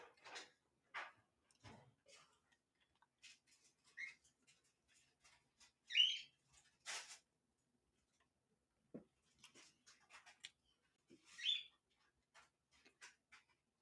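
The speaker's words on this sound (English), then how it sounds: "I have one parakeet and one cockatiel." A pet parakeet or cockatiel gives sparse, short chirps and a few brighter squawks at a quiet indoor distance, separated by long pauses with light ticking and no talk.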